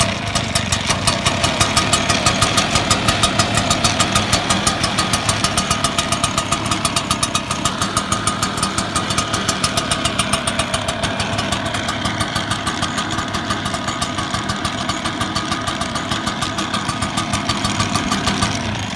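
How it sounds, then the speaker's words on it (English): A Shindaiwa EB802 backpack blower engine runs steadily, a loud, close two-stroke drone with a rapid pulsing beat that holds level throughout with no voices. "this backpack blower, when it was started, it shakes a little"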